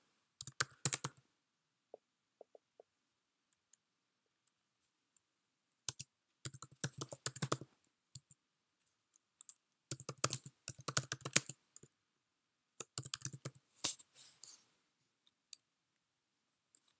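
Bursts of quick typing on a computer keyboard, close and quiet, with clusters of key clicks separated by short pauses.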